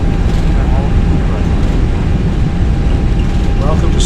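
Airliner rolling out on the runway at Salt Lake City after touchdown with reverse thrust and spoilers deployed, a loud steady broadband engine roar that holds constant throughout, with faint cockpit voices underneath.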